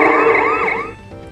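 Wailing police truck siren from a Paw Patrol toy tablet, a loud electronic sweep rising and falling once or twice, close and alone before fading.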